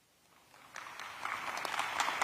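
A university audience at a live broadcast event at Edward Waters University in Jacksonville claps, the applause swelling gradually from faint to steady and fairly loud over a couple of seconds, with no talking.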